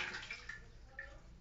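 Water rushing into a pressure washer tank through a newly fitted ball valve, a quiet, close hissing and splashing flow lasting a moment.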